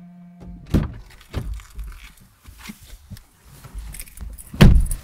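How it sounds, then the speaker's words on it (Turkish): Keys jangle and car doors thunk shut on an electric Renault Megane, with a brief electric whir at the start, then two heavy door slams and scattered metallic clinks, close by with no talk. "Ama hayır, arabayı kilitlememiz gerekiyor. Dışarı çıkıp kilitleyeceğiz."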